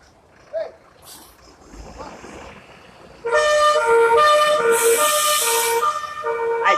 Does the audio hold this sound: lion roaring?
no